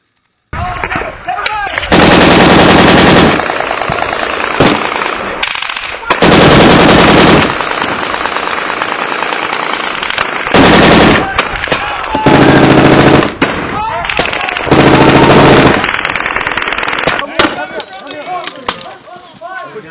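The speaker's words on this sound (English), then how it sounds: "Hey, we're taking fire from 3 directions right now." Bursts of machine gun and rifle fire in a 2012 combat engagement, loud and close, coming in long sustained volleys separated by shorter sporadic shots and gaps across the whole stretch.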